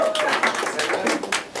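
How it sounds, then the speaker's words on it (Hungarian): Applause rises at an art exhibition opening as a small group claps briskly and close by in a short burst, with voices mixed into the clapping. "Tapsoljuk meg."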